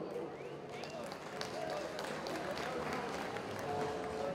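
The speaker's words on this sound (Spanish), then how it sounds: "Fuertes los aplausos." Audience applause at a basketball final in Tepantlali Mixe, Totontepec vs Tlacotepec, a steady, fairly faint wash of clapping and crowd noise lasting the whole stretch.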